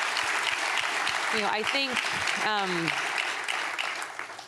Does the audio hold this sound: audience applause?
yes